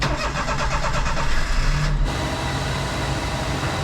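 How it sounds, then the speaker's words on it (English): Japanese Kei mini truck engine cranks with a rapid rhythmic starter chatter for about two seconds, then catches and settles into a steady, fairly loud idle rumble close by. "I'm gonna go turn the car on."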